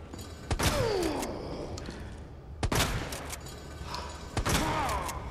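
Gunshots in Resident Evil 2 Remake: several sharp, loud shots spaced a couple of seconds apart, each followed by a ringing tail, over creaking and mechanical game sounds.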